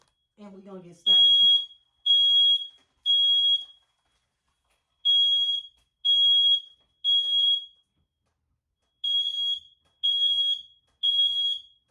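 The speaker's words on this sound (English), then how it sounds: "It's very, very rare that my smoke detector goes off when I burn sage." A household smoke detector set off by burning sage beeps in shrill, piercing groups of three, each group separated by short silences, after a brief voice at the start.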